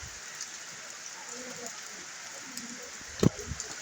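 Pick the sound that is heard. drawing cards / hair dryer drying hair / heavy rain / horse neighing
heavy rain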